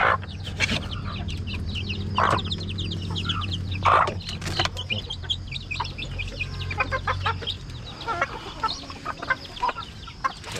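Hen clucking steadily nearby with soft peeping of chicks, amid farmyard ambience and a few sharper bird calls.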